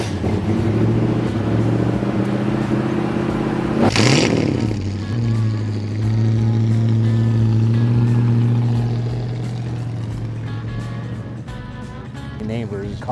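1965 Ford Mustang Fastback engine running loud and close, its low throbbing note climbing in a sharp rev around the middle before settling back toward a lumpy idle, with someone talking over it.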